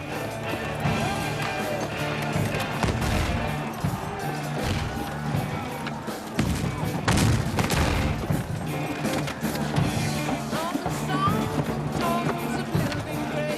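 Musket volleys crack and crash at a Sealed Knot English Civil War battle re-enactment of Roundheads against Cavaliers, with irregular bursts and a heavy rolling fusillade midway, set over steady background music.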